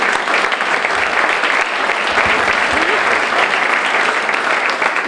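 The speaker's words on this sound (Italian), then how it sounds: "gli facciamo davvero un grande applauso a lei e alla sua parte" Loud, sustained applause from diners at a club's social dinner in Parma, a full room of clapping with crowd murmur mixed in.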